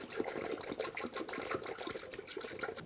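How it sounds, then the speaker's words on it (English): Coolant poured through a funnel into the radiator of a 2011-2018 Ram 1500, a steady low liquid trickle and gurgle close by, faint and continuous with no talk. "Now I just have a funnel in the radiator, and I'm just going to fill it with the appropriate type of coolant."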